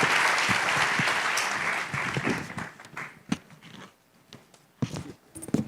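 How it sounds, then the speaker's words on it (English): Conference audience applauding the panelists at a sustainability week event, a dense roomful of clapping that fades over about three seconds into scattered individual claps and faint rustling. "ask a round of applause to our panelists"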